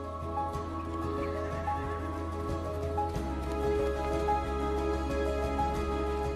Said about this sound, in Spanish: La última especie de caballo salvaje que queda en el mundo es el caballo Przewalski